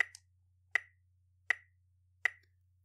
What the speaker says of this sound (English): So if we count this measure with our metronome,